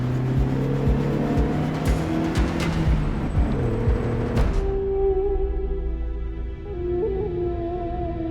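A car engine driving fast, loud and close with shifting revving tones, then cutting to a quieter, smoother engine hum.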